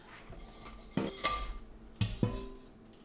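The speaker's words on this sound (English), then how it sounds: "we're just whisking away" Metal whisk strikes and scrapes a bowl of brownie batter in a home kitchen, with a few sharp clinks and clatters in short bursts, close and fairly quiet.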